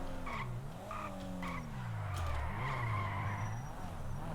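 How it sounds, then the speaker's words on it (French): A cheap first car in a video game drifts through a big corner, its engine note rising and falling in wavering tones beneath a steady tire skid that builds louder midway and holds to the end. "Les gars, je le tape en drift."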